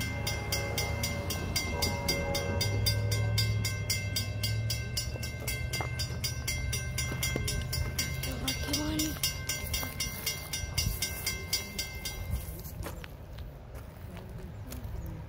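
An Amtrak Maple Leaf passenger train passes Wayneport Road, its loud horn blowing over the rumble and rhythmic clatter of wheels on rail joints. The noise builds, then eases as the cars roll by, with brief voices nearby.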